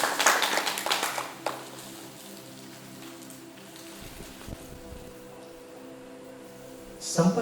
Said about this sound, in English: I would request Luca to please welcome him with applause.